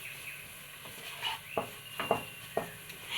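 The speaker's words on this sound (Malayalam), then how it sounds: "ഇതൊന്ന് പച്ചമണം പോകുന്നവരൊന്ന് ഇളക്കി കൊടുക്കാം" Coriander, garam masala and turmeric powder being stirred in a pan, a quiet sizzle with several sharp spoon scrapes and taps against the pan spaced through the middle and end.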